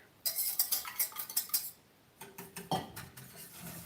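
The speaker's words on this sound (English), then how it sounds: "Using my broken whisk here. Egg yolks. Sugar." Egg yolks and sugar whisked in a bowl with a broken whisk, a quick run of close metallic scraping strokes, a short pause, then slower, softer taps and rattles against the bowl.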